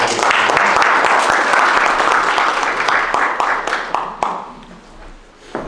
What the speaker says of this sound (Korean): 뜨거운 박수로 모시도록 하겠습니다